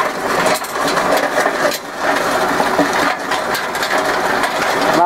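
A tractor works in low gear, dragging a box blade over a gravel driveway. The engine churns loud and close, mixed with crunching, rattling gravel and mechanical clatter that surges and dips irregularly.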